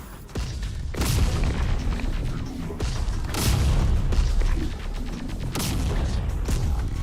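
In the video game Terminator Dark Fate Defiance, artillery fire booms repeatedly: several heavy, rumbling blasts land at irregular intervals over a continuous low battlefield roar.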